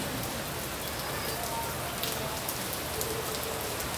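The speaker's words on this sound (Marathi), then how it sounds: "बघा संभाजीनगरला बजाजनगरला पाऊस चालू आहे." Rain pouring steadily in Bajajnagar, Sambhajinagar, a dense continuous hiss of drops striking surfaces, even and fairly loud throughout with scattered sharper drip ticks and no voices.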